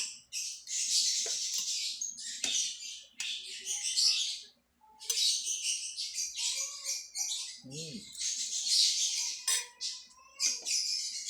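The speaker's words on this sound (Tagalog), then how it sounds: "Ayun yan yung mga ibon sa kabila." Birds chirp and tweet in busy, repeated bursts, fairly close, with short pauses between flurries.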